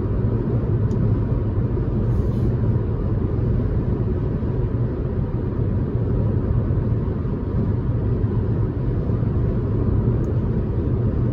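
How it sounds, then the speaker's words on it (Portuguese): Air conditioning blows steadily inside a 2022 Jeep Renegade Longitude T270 while driving, a loud, constant whoosh of airflow blended with low road rumble throughout. "Esse barulho de vento que vocês estão escutando aí é do ar-condicionado"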